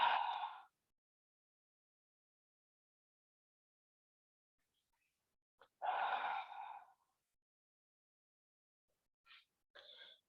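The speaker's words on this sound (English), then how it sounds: "you can mix ujjayi plus pursed lip breathing." Ujjayi breathing, inhaling through the nose with a soft throat sound and exhaling through the mouth: two distinct breathy sighs several seconds apart, close and alone in silence, then a brief faint puff.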